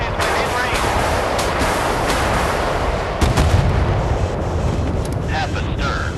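Warship guns fire at an enemy in the naval combat video game Force of Warships, producing loud, heavy booming blasts over a dense rumbling battle din, with a sharper, stronger report partway through.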